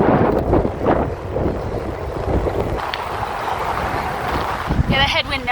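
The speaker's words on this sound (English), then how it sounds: "Yeah, the headwind never quit. Still hitting me now." Gusty headwind buffeting the microphone during a long gravel bike race, a loud rumbling wind roar that rises and falls throughout, with a voice speaking briefly over it near the end.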